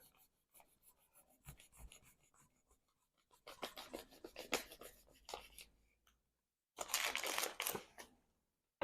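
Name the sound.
kitchen knife cutting blackout blinds on a cutting board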